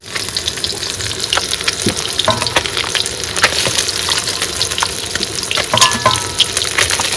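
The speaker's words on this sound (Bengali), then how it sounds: "বন্ধুরা তেল কিন্তু গরম হয়ে গেছে এবার কিন্তু মাছগুলো প্রথমে ভেজে নেবো" Fish fry in hot oil in a wok with a loud, steady sizzle and crackle, with bubbling, spattering bursts and occasional clinks of stirring throughout.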